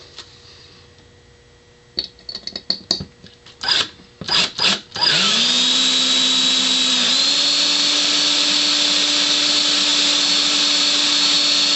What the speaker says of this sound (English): I'm going to drill it with a larger bit from the inside.